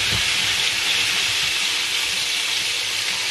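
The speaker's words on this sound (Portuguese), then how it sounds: "Agora vamos continuar a fritar o resto." Small verdinhos fish frying in a pan give a steady, dense, close sizzle of hissing oil, loud and unbroken throughout with no talking.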